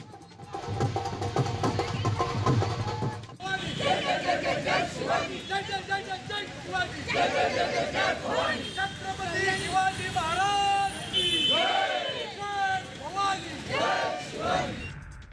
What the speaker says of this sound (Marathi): भाजप नेत्यांनी घोषणा देत आनंदोत्सव साजरा केला